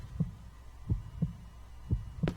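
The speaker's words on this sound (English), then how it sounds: "Now what is that heartbeat?" Heartbeat in the Cry of Fear horror video game: low, muffled double thumps repeating in a steady rhythm, close and quiet, with no talk.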